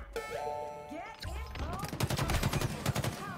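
Rapid gunfire bursts from a multiplayer shooter video game, with sniper shots among them, crackle loudly in the second half after a stretch of voices and game effects, and people talk over the action.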